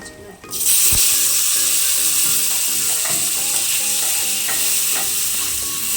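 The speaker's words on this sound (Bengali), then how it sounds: "এরকম নেড়ে চেড়ে একটু ভেজে নেবো মাছগুলোকে।" Fish frying in oil with turmeric and salt, a loud continuous sizzle that holds steady, with rhythmic scraping of a spatula against the pan as the pieces are turned.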